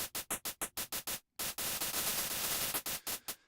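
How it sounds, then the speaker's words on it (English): Bursts of white noise from the Vital synthesizer, a rapid run of short hiss blips, then a sustained hissing stretch before more short pulses, loud and alone with no voices. "We're gonna make these out of the white noise sample in here."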